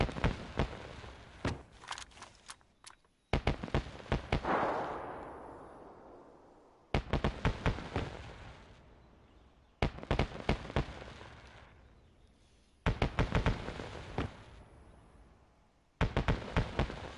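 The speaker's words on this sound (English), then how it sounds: "It's fireworks." Fireworks burst repeatedly in the DayZ video game, with sharp loud cracks arriving in irregular clusters every few seconds and crackling decays trailing each volley.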